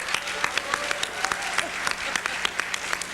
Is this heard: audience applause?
yes